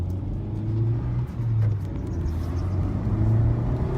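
Honda Civic Type R FK8 engine fitted with a K&N air filter, in R mode, a steady low rumble with mild rises in revs, heard from close by with no talking.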